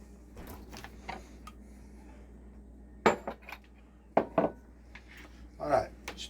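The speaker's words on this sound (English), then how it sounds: "Get that cheese all stirred around in there." A spoon scrapes and clinks against a dish while stirring a broccoli, cheese, egg and onion casserole mixture, giving sparse, irregular knocks with a few sharper clatters under a voice.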